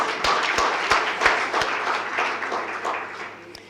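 A crowd applauds, a warm wash of many hands clapping that gradually fades over a few seconds.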